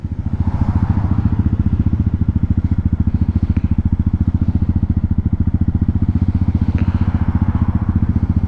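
2022 Honda Hawk 250 motorcycle ridden on town streets, its single-cylinder engine thumping in a steady, even beat, loud and close with wind rush and no talk.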